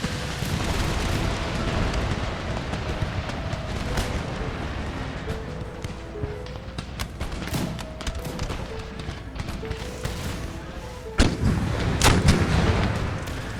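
Canister-shot cannon volleys in Empire: Total War, a dense battlefield roar of overlapping booms and crackling musketry, with a sharper, louder blast near the end.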